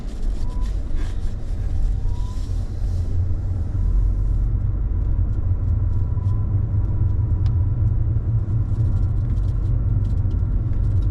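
A car driving up a winding road in the Smoky Mountains, from the Sinks toward Elkmont campground, engine rumbling low and steady throughout and growing slightly fuller as it picks up speed, heard from inside the vehicle.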